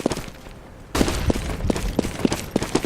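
A flashbang grenade detonates during a Counter-Strike match, a sudden loud bang followed by ringing and a series of sharp, repeated thumping shots in a noisy game scene.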